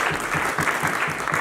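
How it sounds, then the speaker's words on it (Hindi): Audience applause at a poetry gathering held in a historic building, dense steady clapping from a crowd filling the whole short stretch, moderately loud and close. "इनके लिए तालियां बजाएं।"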